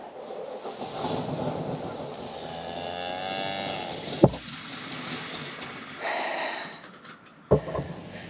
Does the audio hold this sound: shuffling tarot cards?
no